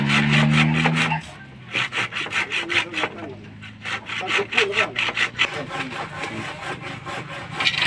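A hand saw cuts through wood during roof work on a house, rasping in quick rhythmic back-and-forth strokes close by, with a brief pause and a low hum in between.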